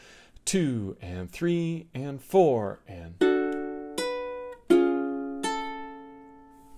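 Ukulele strums measure 11 of a song, four bright chord hits ringing out in time after a voice counts in.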